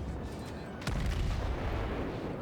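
A Wyoming battleship's main guns fire in World of Warships, a naval video game: one heavy booming salvo lands near the start of the second, over a steady low rumble of battle noise.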